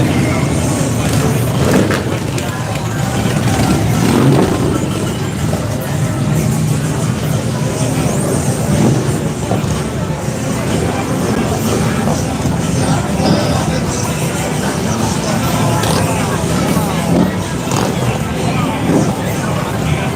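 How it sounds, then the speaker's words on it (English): Busy Main Street during Daytona Bike Week, with a continuous loud wash of motorcycle exhausts rumbling by and stereo music blaring, all blended into a dense, steady street din with voices scattered throughout. "Stereos, exhaust."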